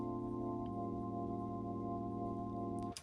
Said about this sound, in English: And organ sound sounds like this.